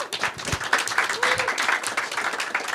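Applause for Naomi at a UN General Assembly media breakfast on tuberculosis, with a short burst of fairly close clapping from a small crowd and a faint voice in the background.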